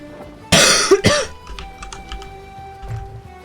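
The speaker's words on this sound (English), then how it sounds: "Sorry for my coughing." Sharp coughs from a person, two loud bursts close together near the mic, followed by faint clicks and quiet game sounds from Sea of Thieves.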